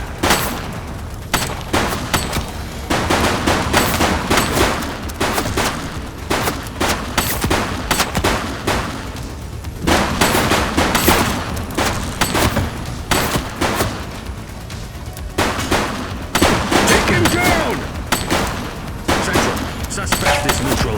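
Bursts of automatic and single gunfire in a police shootout in The Precinct, repeated in rapid clusters across the whole span, loud and close, with voices shouting over the shots.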